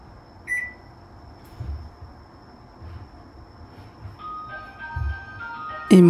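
Electronic chime from a Japanese automatic bath-filling system announcing the bath is ready. Faint room noise comes first, then bright beeping tones start quietly and swell into a loud melodic jingle at the end.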